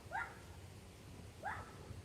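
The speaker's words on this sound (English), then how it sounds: "Sorry about my neighbor's dog." A neighbor's dog barking from a distance, two faint sharp yips about a second apart against quiet room noise, with no talking.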